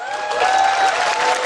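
A dense burst of audience applause at a live Korean talk show recording, a loud, continuous clatter of many hands clapping close by, with a faint murmur of crowd voices.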